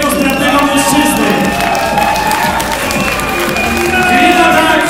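Audience at a music festival in a club, sustained clapping and cheering from a crowd, loud and steady throughout with music tones mixed in.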